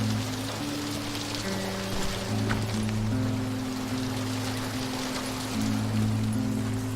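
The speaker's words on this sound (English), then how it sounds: "We've got some rain." Rain falls in the Western shooter Call of Juarez: Gunslinger as a steady hiss of broadband patter, mixed with sustained low musical tones and no talking.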